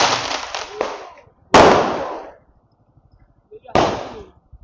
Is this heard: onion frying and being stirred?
no